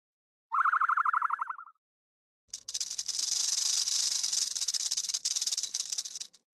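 A rattlesnake rattle sound effect: after a brief electronic chirp-like tone, a loud, close, sustained dry buzzing rattle runs continuously for several seconds with slight pulsing, and no talking.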